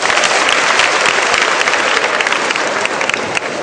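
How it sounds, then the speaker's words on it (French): Loud, thick applause from an audience clapping for the women at a live stage performance, continuous and close for the whole stretch. "Applaudissez pour les femmes."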